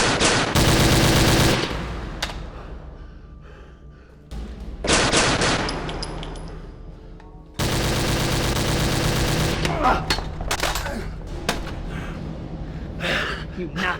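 Bursts of automatic machine gun fire in a World War II werewolf horror film, loud and close, with rapid rattling volleys separated by short pauses and ongoing battle noise, with gasping voices in between.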